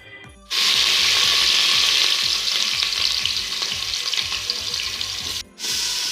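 Onions and rice-pot oil, mustard oil, sizzling loudly in a pot for chicken biryani, a dense continuous crackle and stir lasting several seconds, with a brief sharp cutoff near the end before the hiss resumes.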